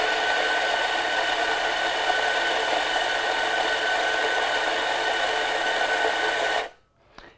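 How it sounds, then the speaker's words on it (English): Coffee grinder running for an ECM Casa V espresso setup, a loud, continuous whirring grind held steady for several seconds before cutting off abruptly, followed by near silence. "let's go ahead first and just grind our coffee"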